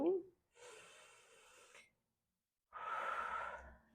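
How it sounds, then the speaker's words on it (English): Slow, deep breathing during a yoga sequence for core and digestive health, with a sharp inhale at the start and then two long, airy exhales separated by a pause of silence, close and moderately loud. "Breathing."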